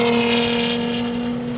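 Vintage race cars at an HSR classic event at Road Atlanta sweep past at speed, a loud droning engine roar with strong steady tones that fades slightly as they pull away.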